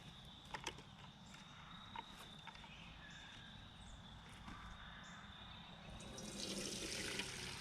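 Boiled-down walnut husk stain liquid is poured from one container into another, a steady soft trickling stream that swells louder toward the end, with quiet background hum and no talking.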